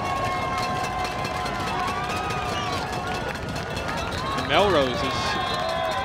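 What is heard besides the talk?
football crowd cheering at Melrose vs Wakefield game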